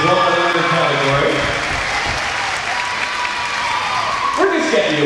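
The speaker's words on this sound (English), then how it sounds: "Give a round of applause" Applause from an arena crowd at a youth figure skating competition fills the space continuously, loud and steady, with a voice talking over it on the PA.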